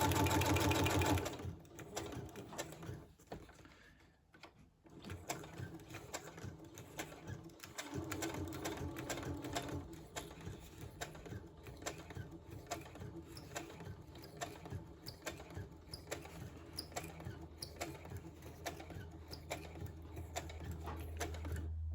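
A sewing machine runs in fast continuous bursts with short pauses, straight-stitching around a fabric journal cover, its rapid needle clatter close and fairly quiet.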